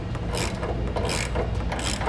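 A ratchet wrench tightens a suspension bolt during installation of a Timbren rear suspension enhancement system on a vehicle, with repeated rasping clicks in rhythmic strokes, close and loud with no voices.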